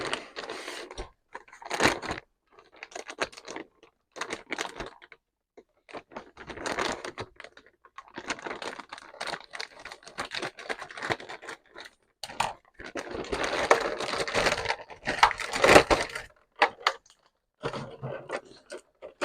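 A blade cutting open the plastic packaging of a Fanhome Fast & Furious Dodge Charger model kit issue, close crisp crackling and tearing in short irregular bursts and pauses, without talk.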